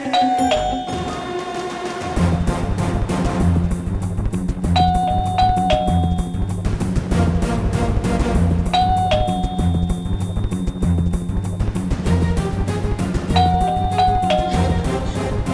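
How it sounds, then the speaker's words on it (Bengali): A household doorbell chimes in a TV drama scene, sounding a clear ding-dong tone that repeats three times at regular intervals over a continuous low musical background, with no speech. "কলিং বেল বেজে গেছে।"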